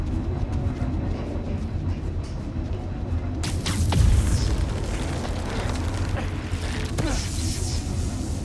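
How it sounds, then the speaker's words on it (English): A spinning blade trap mechanism in the video game Spider-Man Miles Morales grinds and creaks steadily, with a sharp burst and a few metallic clanks breaking through the continuous mechanical drone. "Okay, spinning blades of death."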